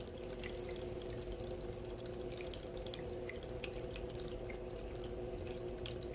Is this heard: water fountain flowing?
yes